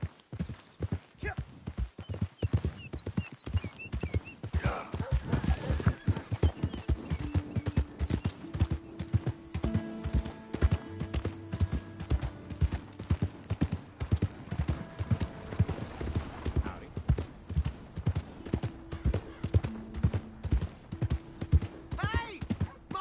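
Horse hooves clip-clop in a quick, uneven rhythm close by, with scattered voices and brief tonal sounds mixed in over the steady hoofbeats.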